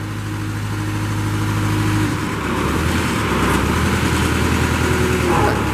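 A 2006 Princeton PB50 piggyback forklift engine runs loudly and steadily, its pitch shifting as the hydraulic mast moves, with a low drone and a change in engine note partway through.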